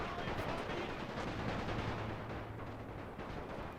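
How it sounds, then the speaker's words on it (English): Light machine gun fire in a Russian Revolution era war game, dense rattling bursts and distant battle noise blending into a continuous loud barrage that fills the whole moment. "Ah, it was just light machine guns"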